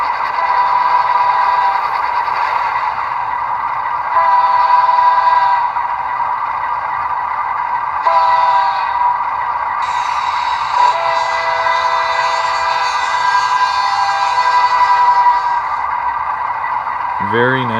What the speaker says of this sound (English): the F5 is the slow Doppler horn